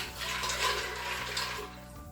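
Water pours steadily into a Crockpot Express pressure cooker holding pasta and a splash of oil, a continuous close rushing splash lasting about two seconds before tapering off.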